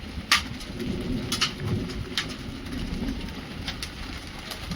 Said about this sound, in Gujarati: વરસાદ તો ધીમો થઈ ગયો છે, પણ કરા બહુ પડે છે